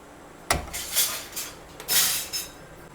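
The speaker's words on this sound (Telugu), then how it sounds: "ఇప్పుడు స్టవ్ మీద పెడుతున్నా." Pot being set onto a kitchen stove: a sharp metallic clunk followed by a few lighter scraping clinks and a second louder knock, close and alone with no talk.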